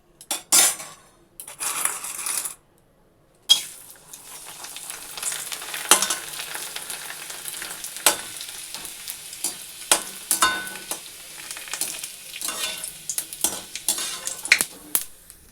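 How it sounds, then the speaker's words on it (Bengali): Papad frying in a hot pan in a home kitchen, crackling and sizzling steadily with bursts of sharper pops, plus utensil scrapes and clinks against the pan, close by with no talking. "তো চলো ভেজে নিই পাঁপড়টা।"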